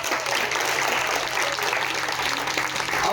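An audience applauding at a spiritual discourse gathering, dense continuous clapping from many hands, loud and sustained without a break.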